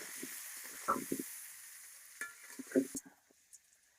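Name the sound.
potatoes frying in oil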